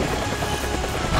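Steady rotor chop and engine drone of a helicopter in the video game Ultimate Spider-Man, a continuous, fairly loud wash with no voices over it.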